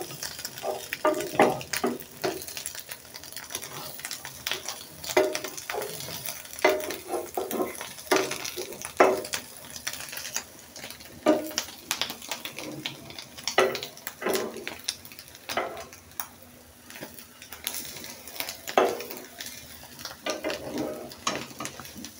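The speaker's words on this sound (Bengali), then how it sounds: "চুলার আঁচটা কমাই দিলাম, ডিম পুড়ে যায় নাকি আবার" Eggs frying in a pan over a lowered flame, a soft intermittent sizzle broken by frequent scraping and tapping of a utensil against the pan, close and moderately loud throughout.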